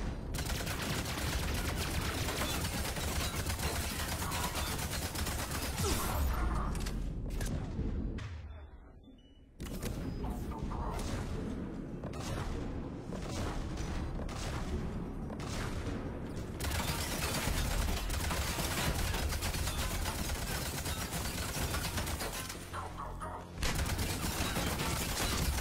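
Dense, sustained gunfire from a Mass Effect 3 firefight against a shielded enemy, loud and nearly continuous with a brief lull midway before the shooting resumes.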